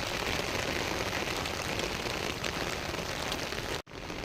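Steady, dense rainfall pattering on a surface, a continuous hiss of drops that cuts off abruptly near the end.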